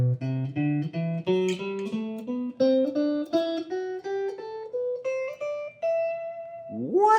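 Guitar climbing a major scale across the neck, one clear picked note after another in a steady ascending run, close and alone, ending on a sustained top note with a brief slide.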